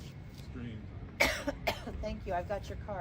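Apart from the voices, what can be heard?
cough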